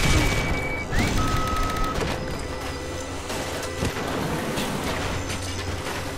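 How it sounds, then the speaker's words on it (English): In Bioshock, a security alarm sounds with steady electronic beeps over dense game noise, crashes and rumbling combat effects, loud and continuous throughout. "we gotta wait out the security alarm."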